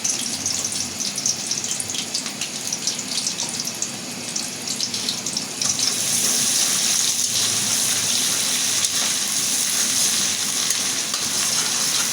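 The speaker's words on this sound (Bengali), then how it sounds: "পেঁয়াজটা আমি একটু লাল লাল করে ভাজিয়ে নেব" Onions sizzle in hot oil in a pan, a steady bright hiss that swells louder halfway through as more oil goes in, with faint stirring scrapes underneath and no voices.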